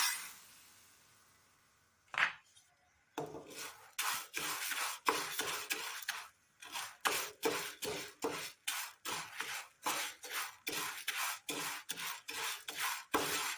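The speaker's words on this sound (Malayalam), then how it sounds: "ചെറുതായി ഒന്ന് വറുത്തെടുക്കാം" A steady rhythmic scraping and rasping of a spoon or spatula stirring dry moong dal in a hot pan, repeated strokes after a brief pause.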